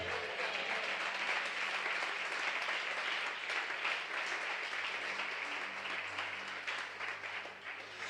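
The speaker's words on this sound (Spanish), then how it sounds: "¿Cuántos lo creen y le dan un fuerte aplauso?" Sustained applause from a large church congregation during a sermon, a steady wash of clapping that holds for several seconds before slowly easing off.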